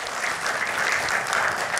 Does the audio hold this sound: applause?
yes